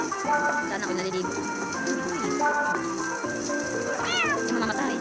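A cat meows repeatedly in a cute home-themed mobile video game, its cries layered over bright game music and sound effects, with a rising chime near the end.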